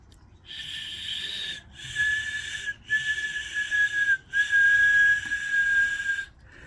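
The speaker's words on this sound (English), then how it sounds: "a high-pitched whistle, but it's not loud" A thin, high-pitched whistle blown without fingers, fairly soft, in four sustained bursts separated by short breaths, with a faint breathy hiss around each tone.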